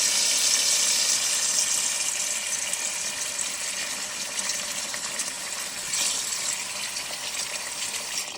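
Water gushes steadily into a pot of muscadine grapes, a continuous bright splashing rush at close range that stays loud throughout, with no talk.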